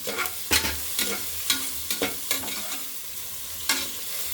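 Green chillies and onion frying in a pan for vegetable pulao, a loud steady sizzle broken by rhythmic spoon stirs roughly every half second, close and with no talking.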